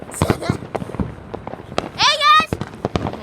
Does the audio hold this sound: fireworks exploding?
yes